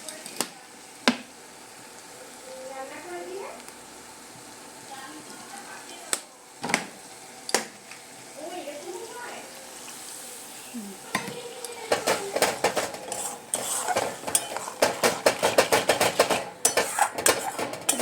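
Spice paste of turmeric powder and salt cooks in a pan while a rinsed bowl's water goes in. Scattered metallic clinks and stirring scrapes are followed by a denser, crackling burst of sizzling near the end, all fairly quiet.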